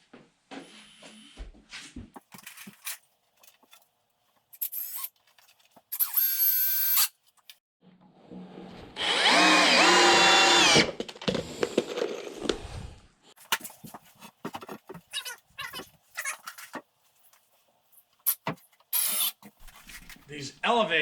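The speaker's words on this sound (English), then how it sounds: "I'm gonna screw them together with these" A power drill drives structural deck screws into wood boards while building an elevated deer blind. Several loud, close whirring bursts come between knocks and clatter, with a person talking on and off.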